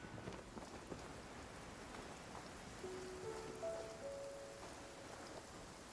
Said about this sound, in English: Taking a stroll in the middle of a downpour certainly